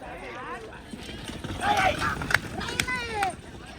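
Hooves of a running bull clatter in quick rhythmic bursts beneath loud shouting voices and crowd noise outdoors.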